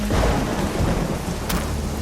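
Thunder rumbles low and heavy through a dense rainstorm, with the steady hiss of pouring rain filling the background for the whole two seconds.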